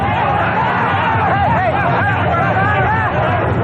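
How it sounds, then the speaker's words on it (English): A chaotic crowd pushing in at a hostage crime scene outside a Mexican bank, loud dense babble of many voices and shouting, continuous throughout. "The scene is pure chaos as the crowd pushes in for a look at the grisly scene."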